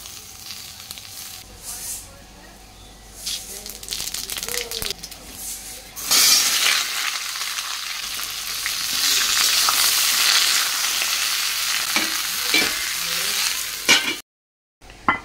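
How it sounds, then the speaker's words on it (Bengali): Bitter gourd frying in a pan on a home stove, a continuous hiss and sizzle that swells louder midway, with occasional stirring clatter and some talk nearby. "তো এখানে করলা ভাজা বসিয়ে দিয়েছি।"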